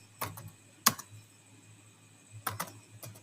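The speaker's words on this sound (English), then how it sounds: "So I'm just typing my prompt here." A computer keyboard typed on in a few short bursts of close, crisp key clicks separated by pauses, quiet overall with no talk.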